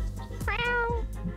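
A kid's voice imitates a cat meow in a Roblox game setting, one drawn-out, wavering mew that rises and falls, close and clear, with faint background noise around it.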